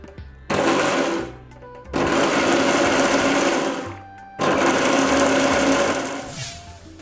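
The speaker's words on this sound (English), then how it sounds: "So let's blend our cooked guavas to a nice puree." A blender purees cooked guavas in three loud motor bursts, each a whirring whine that cuts off briefly before starting again.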